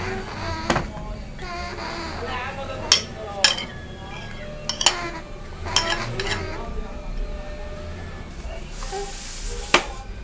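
A utensil scrapes and clinks against a bowl while stirring a lemon pickle mixture with paprika, nigella seeds, vinegar, carrots and peppers, giving scattered sharp taps over a soft background.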